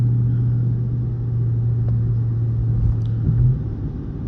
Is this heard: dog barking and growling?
no